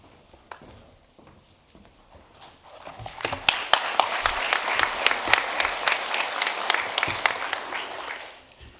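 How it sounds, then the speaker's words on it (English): Applause from a university spring convocation audience, starting sparse and building after a few seconds into full, dense clapping across the hall, then fading near the end. "There's nothing like a delayed applause"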